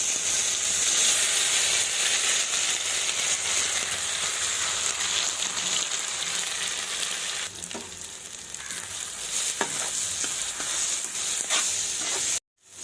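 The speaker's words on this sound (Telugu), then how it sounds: "కొబ్బరి పొడి అయితే వేయుతుందండి ఇది బాగా ఈ నేతిలోని ఫ్రై అవ్వాలి" Coconut powder fries in hot ghee over a low flame, giving a steady, close sizzling hiss that runs almost throughout before cutting off abruptly at the end, with a few light scraping stirs.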